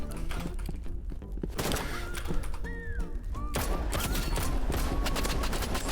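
Weapons such as a revolver and grenades fire in the Roblox game Rivals, a busy stream of rapid gunshots and impacts mixed with game music and effect tones, loud and continuous.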